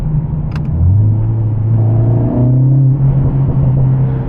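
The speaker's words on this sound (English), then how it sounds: "If we pop the car into manual mode" Mercedes CLA45s AMG in manual mode accelerates, its engine note rising in a strong low hum and climbing through a gear before settling, loud and close from inside the cabin with no talking.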